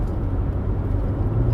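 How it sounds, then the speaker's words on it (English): A car engine revving up while waiting at a traffic light on a drive across Missouri, a steady low rumbling drone heard from inside the vehicle, continuous and fairly loud with no voices. "Let's go ahead and run up the RPMs a little bit just so I make sure we get through this light."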